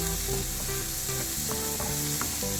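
Diced tomato sautés in a pan for paneer butter masala, a steady soft sizzle with light scraping and stirring clicks from the spoon, faint and continuous, with no voices.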